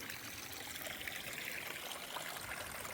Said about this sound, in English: but I'm collecting water